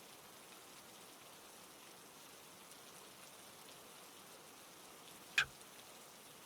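Steady soft rain patters evenly throughout, a quiet continuous hiss of drops with one brief sharp click near the end.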